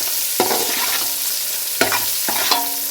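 Tomatoes cook in hot ghee for a pulao, giving a steady close sizzle with a few sharp stirring scrapes of a spoon against the pan, no voices.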